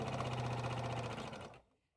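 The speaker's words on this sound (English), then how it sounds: "I'm going to go to my machine and stitch my opening closed" A sewing machine runs in a fast, steady rhythmic whir as it stitches a turn opening closed on a fabric project, then stops abruptly to silence.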